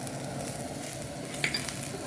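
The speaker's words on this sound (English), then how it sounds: "Just let it fry all together." Thin matchsticks of garlic and ginger fry together in a pan, giving a soft, steady sizzle with faint crackles and a brief louder spatter near the middle.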